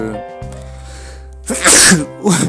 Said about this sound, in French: Première fois que ça m'arrive, je crois, éternuer en pleine vidéo.